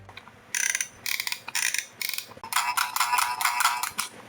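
A 1993 McDonald's Happy Meal sound machine toy plays a rattly electronic effect in a series of short, buzzy bursts, first spaced apart, then running together into a longer rapid stretch, heard close up.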